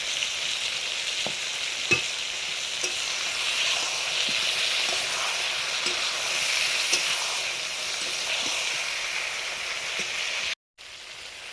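Potato pieces with turmeric sizzle steadily in a hot pan, the continuous frying hiss broken by occasional light clicks of stirring, close and alone, before the sound cuts off abruptly near the end.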